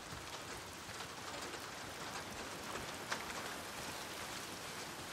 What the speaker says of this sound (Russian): Проклятый дождь.